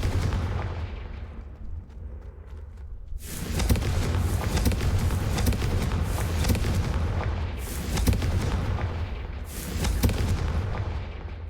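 Explosive spell blasts from the Hogwarts Legacy game, the Confringo and Incendio spells, booming repeatedly in dense, loud bursts after a quieter opening, with rumbling impacts throughout.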